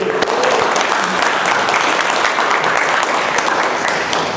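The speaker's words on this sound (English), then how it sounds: "So, round of applause for everybody here." Applause from the audience at a vegan meetup in Edmonton, a steady and dense wash of clapping from a roomful of people that carries loudly through the whole stretch without letting up.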